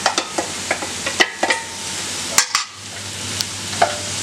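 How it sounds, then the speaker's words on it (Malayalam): Crushed shallots hit the hot pan of a spicy beef curry, giving a steady close sizzle broken by several sharp stirring scrapes and clinks. "ഇനി നമുക്ക് ചെറിയ ഉള്ളി ചതച്ചത് ചേർത്ത് കൊടുക്കാം."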